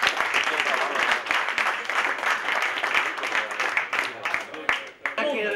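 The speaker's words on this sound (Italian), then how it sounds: "Un grande applauso" Audience applause for a guest in Italy, a dense wash of clapping running steadily throughout, with a brief voice near the end.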